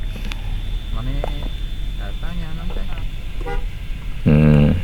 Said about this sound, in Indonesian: Kita kasih klakson ya.